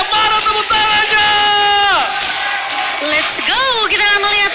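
An arena crowd at a Mobile Legends esports match yells and whoops loudly and continuously, with rising and falling shouts and strong reverberation throughout.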